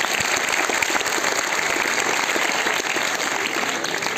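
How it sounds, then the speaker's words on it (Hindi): Loud, dense applause from students and teachers at a school seminar in Siliguri, a sustained close roar of many hands clapping with no talk over it. "जोर से तालियां बजाइए।"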